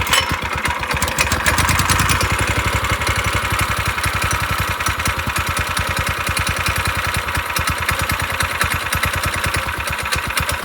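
A small Predator gas engine idles steadily and loudly after a cold start, a rapid even putter with a slightly rough, knocking edge throughout.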